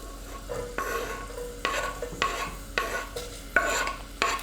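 Onions sauté in extra virgin olive oil over a gas flame, a quiet steady sizzle broken by regular scraping stirs roughly every half second, close and without talk.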